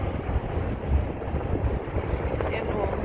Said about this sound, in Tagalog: Kaya mahangin.